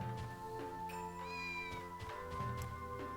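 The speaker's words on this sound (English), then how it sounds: "There's a kitty." A cat in the video game Onimusha 2 Samurai's Destiny meows a few times at moderate volume over the game's continuous background music.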